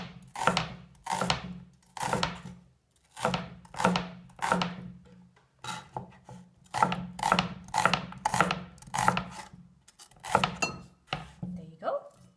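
Knife slicing through chili peppers on a cutting board, seeds left in, for a torn noodle stir fry: about fifteen crisp, evenly spaced chopping thuds, close and clear, with no talking.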